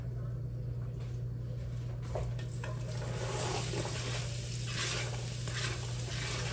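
Onions sizzle and crackle in a hot pan while being stirred, a steady frying hiss with a low hum underneath.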